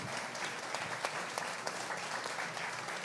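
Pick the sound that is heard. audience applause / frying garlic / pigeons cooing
audience applause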